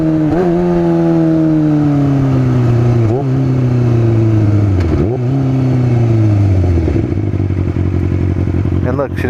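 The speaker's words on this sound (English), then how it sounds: "Listen to the deceleration. Shit, this even sounds cleaner." A 1700cc supercharged motorcycle engine decelerates in loud, close, falling revving sweeps with brief blips between them, then settles toward a rough, steady idle, with no talking.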